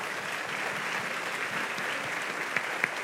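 Applause for the Lord fills a Baptist church: a continuous, moderately loud patter of many hands clapping together, even and sustained, with a couple of sharper claps near the end.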